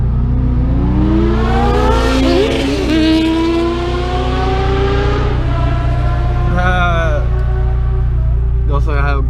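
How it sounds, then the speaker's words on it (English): Several cars rev and accelerate at a street race, seen from inside a 2014 Mitsubishi Evolution X, engine notes climbing in long sweeping pitches over a steady drone of the car's own engine, with people talking nearby. "Oh, they're about to race."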